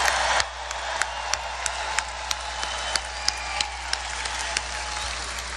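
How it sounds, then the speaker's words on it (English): A large crowd at a Donald Trump rally in Melbourne, Florida applauds for the airport staff, sustained distant clapping echoing through a big venue, with sharp individual claps popping out above the wash. "let's give a round of applause for the Melbourne airport staff"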